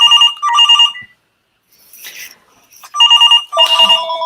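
A phone rings loudly and close in repeated warbling electronic bursts, two rings, a gap with faint rustling, then two more rings.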